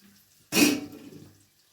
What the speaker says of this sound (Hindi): तो मैं थोड़ा सा पानी डालूँगी, ज़्यादा नहीं